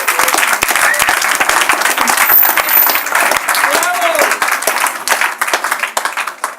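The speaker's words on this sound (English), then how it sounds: "give them a huge round of applause to everyone" An audience at a Young Sustainable Impact event gives loud, close applause, a dense stream of sharp claps that keeps going throughout and thins a little toward the end.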